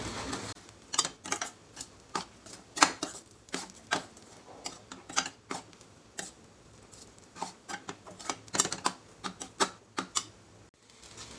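Egg fried rice being stirred with salt in a pan, a spoon or spatula clacking sharply against the pan in a steady repeated rhythm, close up and fairly quiet, with no talk.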